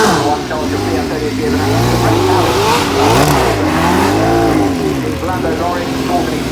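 Alfa Romeo Formula 1 car at the Goodwood Festival of Speed paddock, engine revving and falling in repeated sweeps, loud and close, with a commentator talking over it.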